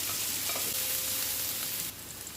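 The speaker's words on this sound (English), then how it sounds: "I'm going to saute our onion in." Onion sautéing in a pan for Filipino palabok, a steady soft sizzle with faint stirring, close and continuous without voices, dropping slightly quieter near the end.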